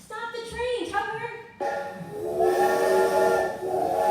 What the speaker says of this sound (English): The whistle is too loud.